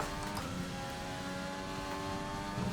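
A Formula 1 car in the F1 2020 racing game revs hard through the Japanese Grand Prix at Suzuka, its engine a steady, loud, continuous drone that holds at high pitch for the few seconds with no pause.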